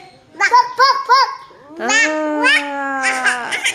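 A voice imitates a dog, giving three short high yelps followed by a longer, drawn-out whining bark, close and fairly loud.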